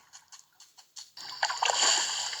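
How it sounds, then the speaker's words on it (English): Beavers splash into water in the Toca Nature video game, a brief run of light ticks giving way to a sustained, close watery splash and slosh. "I love it when the beavers dive into the water."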